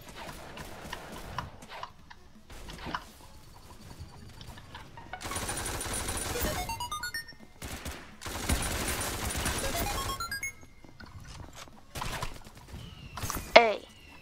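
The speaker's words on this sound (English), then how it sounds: "Machine gun." Bursts of rapid machine gun fire in the Roblox game Ragdoll Universe, loud clusters of shots separated by quieter stretches, with a sharp spike near the end.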